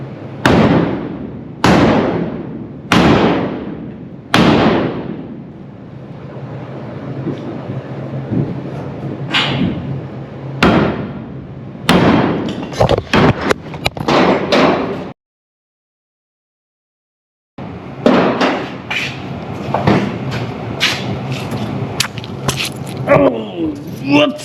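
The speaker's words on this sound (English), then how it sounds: "We need a block of wood and a freaking hammer" A hammer pounds a wood block against the metal of a 1955 Chevrolet Nomad tail light, with sharp loud impacts spaced a second or so apart, then clusters of quicker blows, a brief silence, and more hammering.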